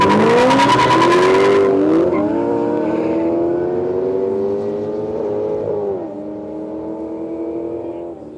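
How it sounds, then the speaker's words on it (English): A Ferrari and a black HSV Senator with an LS2 engine launch side by side on a no-prep airstrip drag strip, loud engines roaring and revving with rising gear-change whines, fading slightly as they pull away. "see once more the Ferrari coming up to race up against the black HSV Senator with the LS2 motor on board."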